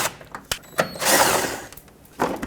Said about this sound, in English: I'm going to start with removing those two 10mm bolts that are there